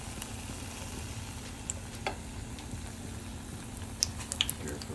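A corn dog frying in a pan makes a steady, fairly quiet sizzle with a few sharp pops and crackles near the end, heard alone without talk.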